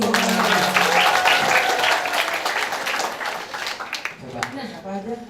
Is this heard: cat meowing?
no